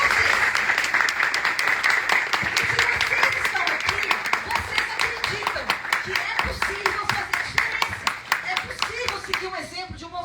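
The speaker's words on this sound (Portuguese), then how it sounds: "Então eu peço uma salva de palmas para vocês que estão aqui." Audience applause at a political leadership gathering of a right-wing movement in Bahia, a dense, steady wash of many hands clapping with a few sharper individual claps, sustained and fairly loud before thinning out at the end.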